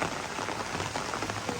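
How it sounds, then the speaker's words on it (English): Rain falling steadily in a jungle setting at an attraction in Alfonso, Cavite, Philippines, a dense, even patter on surfaces throughout the short stretch, with no voices. "It's raining in the Amazon, guys."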